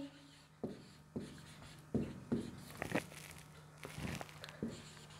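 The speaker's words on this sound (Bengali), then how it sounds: "এই পাশে কিছু শব্দ লিখি।" A pen scratches out words by hand in short strokes, several separate scribbles with brief pauses between them, faint and close, with a quiet hum underneath and no speech.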